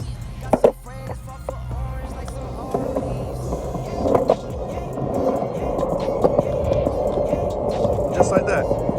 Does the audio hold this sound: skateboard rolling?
yes